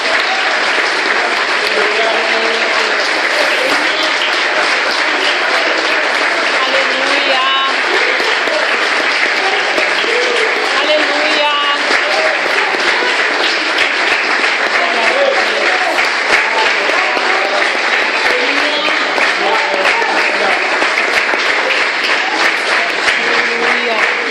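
A church congregation at a Mother's Day service claps at length, a sustained, loud, even applause with voices mixed in throughout.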